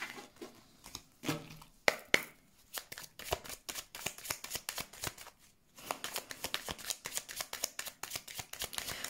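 Tarot cards riffled and shuffled by hand for a reading, a dense run of crisp papery flutters and snaps that pause briefly midway and then resume, close and fairly quiet with no talking.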